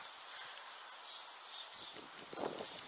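Steady, roaring gale-force wind in Tour-en-Sologne, France, buffets the microphone, with a stronger gust swelling near the end; no voices, just a continuous rushing blow.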